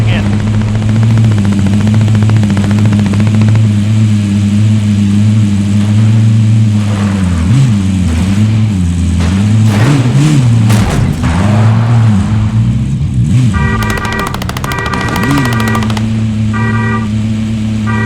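A car engine in the Warzone video game drones steadily with loud, continuous mid-range hum, its pitch wavering and rising as it revs while driving, mixed with game sounds and beeps near the end.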